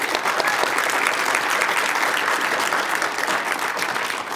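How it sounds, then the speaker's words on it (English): Warm, continuous audience applause at a 2023 book launch event with readings, a steady wash of many hands clapping together that eases slightly toward the end. "Big round of applause to James and all the readers for coming out"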